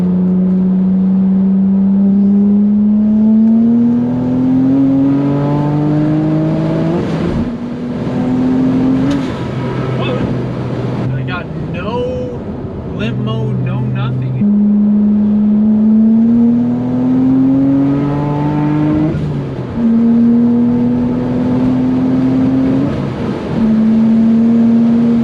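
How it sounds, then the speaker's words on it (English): A BMW 135i with the N54 engine pulls hard in third gear, loud and close inside the car, its engine note rising steadily through each shift and climbing again, with no talking. "I'm gonna do a 3rd gear pull and see what happens."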